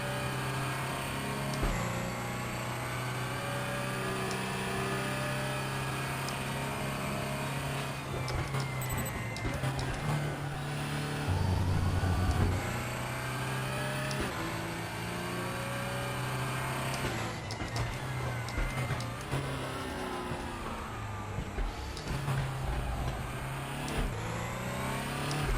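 A race car engine in the RaceRoom (R3E) sim runs continuously through a lap, loud and steady, with repeated revs and drops as gears shift, brief lifts around corners, then acceleration again, with no talk over it.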